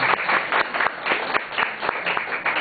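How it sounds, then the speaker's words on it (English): An audience applauds the contributors to a book during a speech, a steady patter of many hands clapping at moderate volume for a few seconds, alone without talk. "Let's give them a warm applause to show our deepest appreciation."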